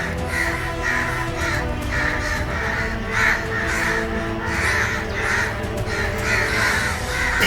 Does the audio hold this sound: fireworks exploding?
no